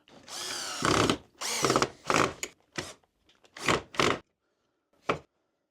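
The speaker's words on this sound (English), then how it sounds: "And I can drill those 2 holes." A power drill bores pilot holes for a cabinet door hinge using a hinge jig: several short, loud whirring bursts of rising pitch, stopping and starting in an uneven rhythm, then one brief final burst, with no talk.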